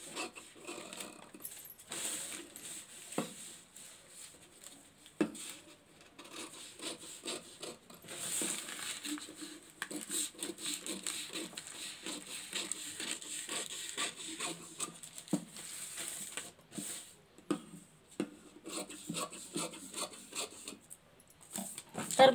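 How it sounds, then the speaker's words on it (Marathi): A paper pattern for a katori blouse is being cut, making a steady, close, scratchy rasping and rubbing with occasional sharper snips, and no talk. "तर मी आता कटाई करून घेत आहे. अशा प्रकारे कटाई करून घ्यायची आहे."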